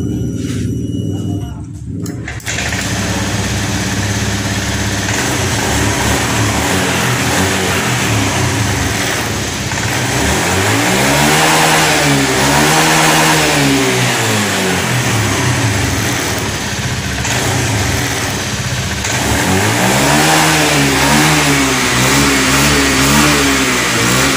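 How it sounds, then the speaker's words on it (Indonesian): A motorcycle engine, after its fuel tank was drained, sputters to life and settles into a steady, stable idle, with a few revs rising and falling in pitch, loud and close throughout. "Motor di sini sudah menyala dan stabil, tidak ngempos."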